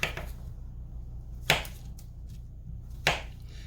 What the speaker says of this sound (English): So my next step is to prep the mushrooms, and so I'm going to cut these.